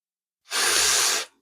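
A single long, breathy exhale during a morning yoga stretch, close and steady for under a second, with no talking over it.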